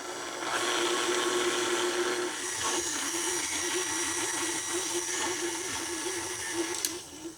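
A stand mixer with a dough hook kneads pasta dough, giving a steady, continuous motor whir with a rhythmic churning texture throughout, close and moderately loud.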